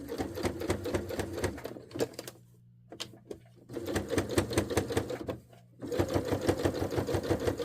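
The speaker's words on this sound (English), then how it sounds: "I'm just going to stitch right along the edge here." A sewing machine stitches along the edge of fabric for a lounge wear top, running in a rapid, loud mechanical rhythm that stops briefly twice before starting again, with no talk.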